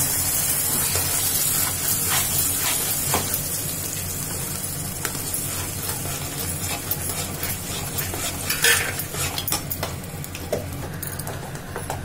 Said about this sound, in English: we have to add the paste to the tadka